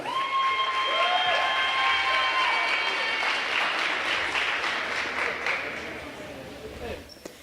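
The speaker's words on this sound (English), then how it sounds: "Another round of applause for our volleyball sophomores." Gym crowd claps for honored volleyball sophomores, loud sustained applause that gradually thins and fades toward the end, with an announcer's voice over the start.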